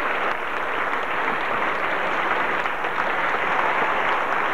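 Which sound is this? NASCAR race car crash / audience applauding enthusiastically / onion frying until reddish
audience applauding enthusiastically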